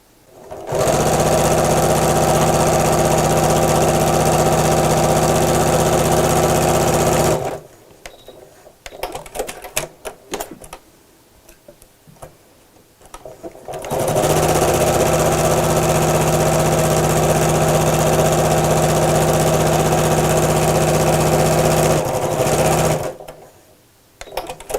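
A sewing machine stitches a seam on a fabric Christmas stocking, running loud and steady for about seven seconds, pausing briefly with small handling clicks, then running again for a similar stretch before stopping.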